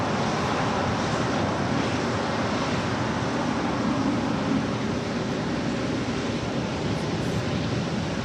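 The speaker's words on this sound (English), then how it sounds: "It's a 787-10 Dreamliner now rolling down 25 right." A United Airlines Boeing 787-10 Dreamliner rolls down runway 25 right at LAX, a loud, steady broadband engine roar that holds without break.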